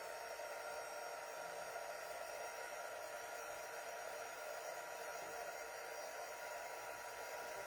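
A hair dryer blows steadily on a drying craft piece, a constant close whooshing hum with no break and no talking.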